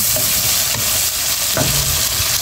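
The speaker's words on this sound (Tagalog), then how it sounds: "Bigisa muna natin ng hipon" Shrimp sautéing in a pan while cooking pinakbet, a steady loud sizzle and frying hiss with a few soft stirring clinks, no voices.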